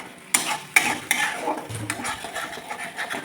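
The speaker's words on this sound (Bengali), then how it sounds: "দিয়ে ভালো করে নেড়ে নিচ্ছি।" A spoon stirs a paste of tomato, onion, green chilli and garlic in oil in a pan for a spicy chitol fish curry, giving a few sharp scraping knocks against the pan over a low sizzle, close by, with no talk.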